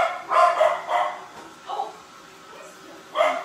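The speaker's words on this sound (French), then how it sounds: "Je m'excuse pour les chiens, il doit y avoir quelque chose qui se passe." Several dogs barking indoors in bursts, with sharp barks and yips clustered near the start and again near the end, under a person's speech.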